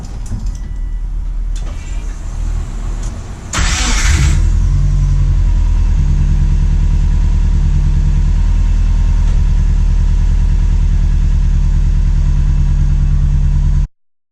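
A Subaru Forester XT with performance pistons cranks with a few clicks, then its engine catches loudly and settles into a steady, close idle, running evenly until it cuts off at the end.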